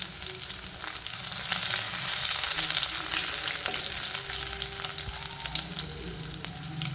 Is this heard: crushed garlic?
yes